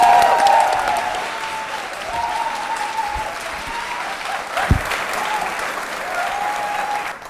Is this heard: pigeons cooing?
no